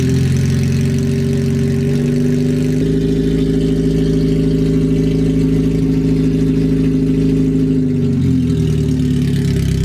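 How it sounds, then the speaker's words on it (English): A raw, very loud supercharged Honda K-series car engine with no exhaust fitted roars steadily at close range with a deep rumbling drone and a shift in pitch near the end. "I have to start it to move it, and it doesn't have an exhaust on it."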